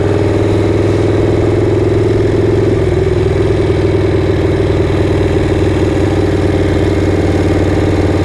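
A Harley Shovelhead motorcycle engine runs loud and close on a British Columbia backroad, a steady throbbing rumble that holds a low, even pitch throughout with no voices.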